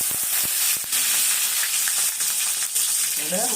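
Garlic cloves, about ten, sizzling with asafoetida in hot oil, a steady close crackling fry with a few sharp pops and stirring, no talk over it.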